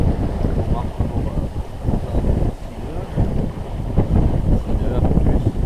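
Strong wind buffets the microphone aboard a sailboat sailing upwind at sea off Corsica, a loud steady low roar with gusty surges and no clear pauses.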